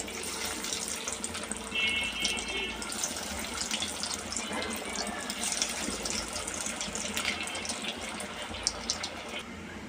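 Beef tikka kababs sizzle as they fry in hot oil, a dense hissing crackle close by with brief pops, while a voice talks faintly in the background.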